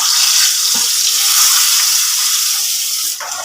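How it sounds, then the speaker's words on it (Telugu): Eggs fry in hot oil in a pan for an egg curry, a loud, steady close sizzle with bright hissing that dips slightly toward the end after a brief clatter. "నూనె కాగిపోయింది కదండి. కోడిగుడ్లు వేసేసుకుందాం."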